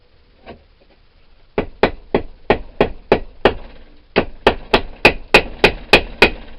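Hammer blows ring out on a part of a First Gen Cummins NP205 transfer case during front output shaft bearing and oil seal work, landing as about fourteen sharp, evenly spaced strikes in two loud bursts after a single lighter tap.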